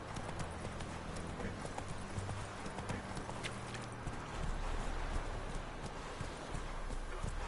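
Horse galloping in The Witcher 3 video game, a rapid, continuous clip-clop of hooves close up over a busy game soundscape, with no talk.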